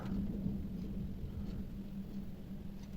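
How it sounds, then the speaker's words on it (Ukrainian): Low rumbling thunder rolls steadily underneath a constant wash of rain, sustained and fairly distant, with no voices. "Грими чуєте?"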